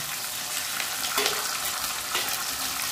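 A loud, dense sizzle of spice paste with garlic, onion, ginger, chilli, cumin-coriander and raw turmeric pastes frying with chopped tomato and salt in a pan, steady throughout with a couple of brief stirring scrapes.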